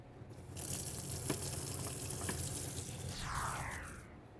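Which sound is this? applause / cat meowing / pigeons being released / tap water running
tap water running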